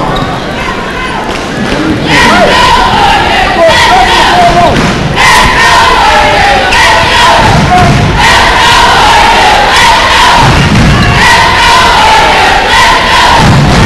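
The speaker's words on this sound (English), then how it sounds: "Battle of the crowds here." Rival high school basketball crowds at a Montbello versus Denver East boys game, loud sustained chanting and cheering from packed stands filling the gym, rhythmic waves of massed voices rising and falling with thuds beneath.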